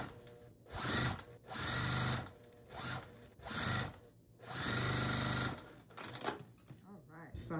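A sewing machine stitches the last piece of a barn star quilt sampler block in several loud, close whirring runs of about one to two seconds each, with brief pauses between them.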